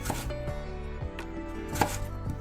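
A knife slices mandarin peel into thin, long strips on a board, with a few crisp close-up chops at an uneven pace.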